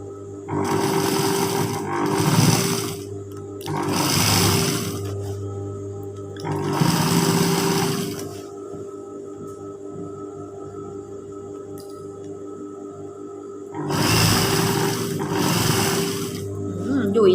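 A sewing machine stitching a Thai sarong runs in several loud whirring bursts of about two seconds each, separated by pauses where only a faint hum remains, close by.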